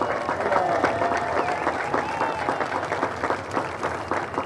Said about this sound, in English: Let's give a big round of applause to the Prescott Police Department.